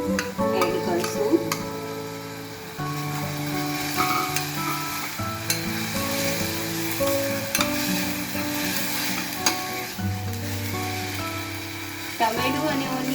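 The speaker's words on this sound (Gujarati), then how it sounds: "હવે આપણે આમાં છીણેલું ટામેટું એડ કરશું." Grated tomato is stirred into light-browned onions in a pan for vegetable rice, a steady close sizzle with frequent scraping stirs and utensil clinks throughout.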